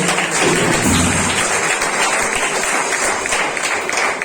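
A church congregation gives a round of applause, with loud, dense clapping that carries on steadily throughout.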